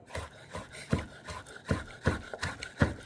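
A knife slices through hot grilled pork barbecue on a board, a series of short, rhythmic cutting strokes close up, about a dozen in three seconds.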